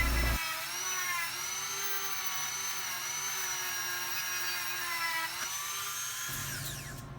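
A Dremel rotary tool grinds down a cap screw to form a countersunk head for a Mini 4WD car, a continuous high-pitched whine held steadily for several seconds before cutting off.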